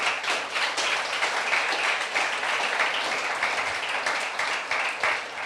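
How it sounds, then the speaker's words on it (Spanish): Church congregation applauds the volunteers, dense continuous clapping from a large crowd filling the room, fairly loud and steady, with no speech over it. "Yo quiero pedirle un aplauso para los voluntarios que estuvieron"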